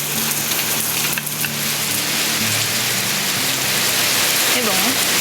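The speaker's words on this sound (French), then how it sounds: "Des gouttes de pluie qui se noient dans la piscine." Steady patter of raindrops falling into a swimming pool, a dense continuous hiss with faint voices in the background.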